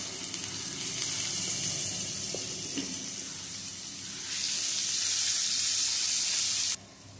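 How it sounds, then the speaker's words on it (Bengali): Potatoes frying in oil with a little turmeric powder. A steady broad hiss of sizzling oil grows louder partway through, then drops off abruptly near the end, with no talking. "এবারে এই তেলে ভেজে নেব এই আলুগুলো। দিয়ে দেবো সামান্য হলুদ গুঁড়ো।"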